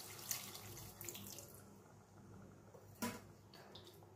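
A small splash of water poured into a pan of pointed gourd curry cooking with sesame and coconut paste, a soft, quiet pour with faint trickling and a brief sharper splash near the end, no talking.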